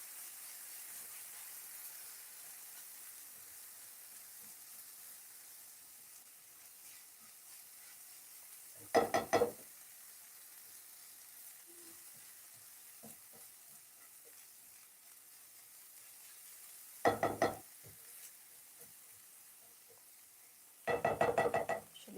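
Onions cook in a pan over a low to medium flame with a faint, steady sizzle, broken by three brief clattering knocks of utensils.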